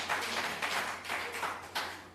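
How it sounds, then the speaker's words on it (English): Faint, distant applause from an audience honouring a Minister after a presentation, a soft steady patter of many hands clapping with a low electrical hum underneath. "I again invite you to just extend a round of applause to the Minister for that presentation"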